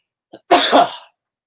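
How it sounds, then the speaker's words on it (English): A single sharp sneeze burst, preceded by a quick intake of breath, close to the microphone and then silence. "Little sneeze there."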